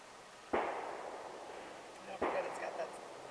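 Two sharp gunshots from a .380 Auto pistol firing Fiocchi 95 grain FMJ rounds into a gel block, spaced under two seconds apart, each with a short decaying tail over a steady background.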